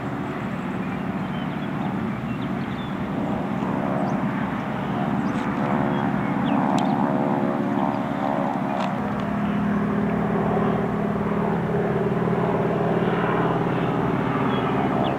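A T-6 Texan propeller airplane drones overhead, a steady loud engine roar that swells and shifts pitch slightly as it passes, near a dog park in Livermore, California.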